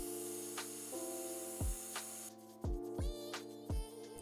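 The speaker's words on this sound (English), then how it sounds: "Going to hit that with the hairdryer and do another quick coat of it." A hairdryer blows on fresh airbrushed paint on a shad-style fishing lure, giving a steady motor hum and airflow hiss, with a few dull knocks and clunks near the end and a change in the airflow partway through.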